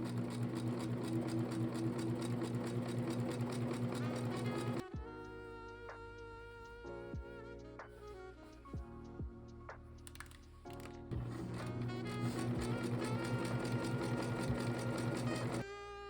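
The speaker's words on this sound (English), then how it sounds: "what I'm going to do now is do a top stitch along the top and then a stitch right down the middle of this to be the casing for my elastic" A sewing machine top-stitches along trousers to form an elastic casing, running in a steady, close, rapid mechanical hum for several seconds, pausing with a few light clicks and handling sounds, then resuming its even whir.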